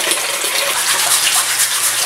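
Mud clams are brushed clean under running water, a loud close splashing gush of tap water with scrubbing mixed in, steady throughout with no talking.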